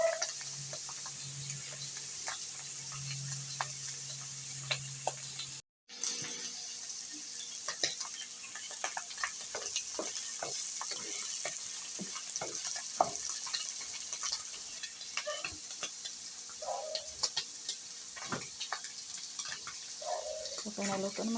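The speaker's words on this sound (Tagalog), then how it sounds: "So ilagay na to itong mushroom. Itong mushroom dira. Gusto na siyang lutuon." Mushrooms cook in a pan for a creamy chicken dish, giving a faint, steady sizzle with scattered soft clinks and stirring, quiet and alone.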